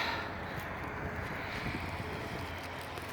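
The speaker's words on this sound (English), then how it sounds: "We got a little bit of wind gust." Gusty wind blows across an outdoor pico balloon launch site, a steady low rushing and buffeting against the microphone that stays fairly even for a few seconds with no talk.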